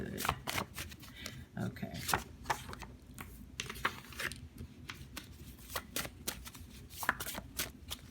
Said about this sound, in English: I'm just going to keep shuffling until I stop